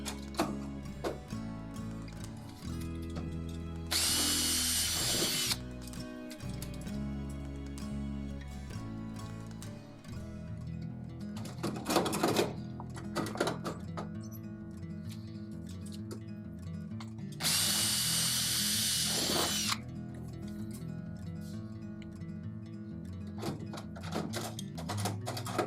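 Drill-like deburring tool used during aircraft wing installation, sounding in several short whirring bursts separated by quieter mechanical handling noises, close and clear.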